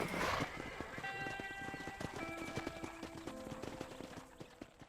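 A horse in Red Dead Redemption walks with rhythmic hoof clip-clops and lets out a whinny near the start, close and fairly quiet, with faint game music beneath.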